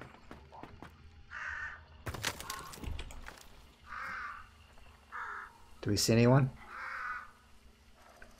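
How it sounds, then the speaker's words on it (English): Several crows caw in short bursts in the video game Hunt: Showdown, heard through the game sound and partly under talk, with a louder, nearer caw near the end of the stretch. "Birds, shut up."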